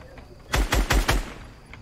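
Four heavy, punchy gunshots fire in a quick burst during a multiplayer shooter video game match, loud and close, with quiet pauses before and after.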